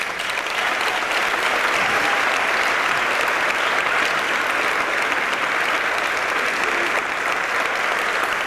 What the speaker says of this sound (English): the first man to start the clapping